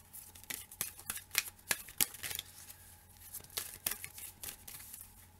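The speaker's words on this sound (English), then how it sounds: "these are a little bit hard to shuffle" A deck of tarot cards that is stiff and hard to shuffle gives off repeated papery riffles and slaps in an irregular rhythm, close and fairly quiet, with no talk.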